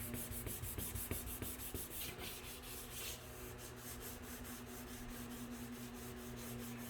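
Sandpaper on a sanding block rubbing over a scratched plastic rear fender of a 2016 Jeep Cherokee, close and steady with quick rhythmic back-and-forth strokes at first, then a smoother continuous scrape.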